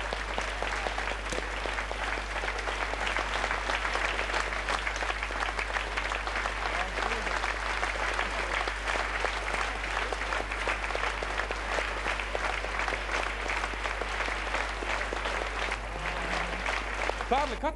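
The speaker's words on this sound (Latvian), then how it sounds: "Un tagad mēs aplausiem sveiksim mūsu balles vaininieku, mūsu viesi, Kārli Lielo." Sustained audience applause in a hall at an opera and ballet concert, dense and even clapping that holds steady throughout at moderate loudness.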